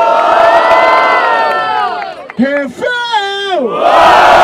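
A large crowd at a rap battle in Barueri, São Paulo cheers and shouts loudly, with whoops and rising yells swelling, dipping briefly, then surging again.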